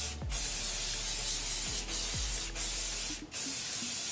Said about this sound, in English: spray it down so it could stay like this instead of getting like super big